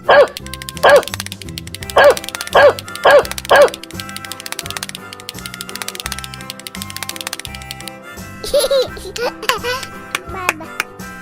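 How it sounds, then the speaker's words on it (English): A cartoon dog barks in a quick series of five or six loud, evenly spaced woofs over upbeat nursery rhyme music, followed by a short yip near the end. "Dog."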